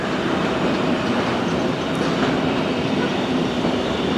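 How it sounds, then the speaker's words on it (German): A train led by a BLS Re 465 locomotive with a BLS Cargo Vectron behind it passes at Spiez, giving a loud, steady rumble of wheels and rolling stock close by with no pauses. "Eine BLS RE465 führt vor einer BLS Cargo Vectron, die mit die Alpinisten beschriftet ist."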